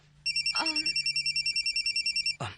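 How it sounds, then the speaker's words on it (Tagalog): An incoming call sets a mobile phone ringing with a steady, repeating electronic ringtone in a fast pulsing rhythm that lasts about two seconds, fairly close and clear, with a brief rustle as it stops and no talk over it. "May nanawag sa phone ni Ayesa"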